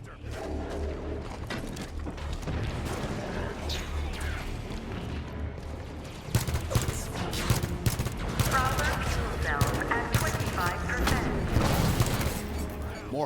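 Halo 5 video game combat as weapons fire at a Hunter: dense bursts of rapid gunfire, crashes and mechanical clatter, growing heavier and louder midway, with a voice talking over parts of it.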